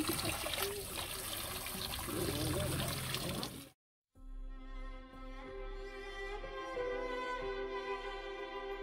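Water trickles among rocks at an outdoor shrine spring, a steady close splashing wash that cuts out briefly and returns as a fainter, finer dribble under wind and ambient noise.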